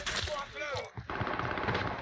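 Rapid bursts of automatic gunfire in the Warzone video game crack loudly and continuously, with voices talking in the background.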